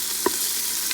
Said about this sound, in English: That's 1 full tomato that I've added, and just mix it properly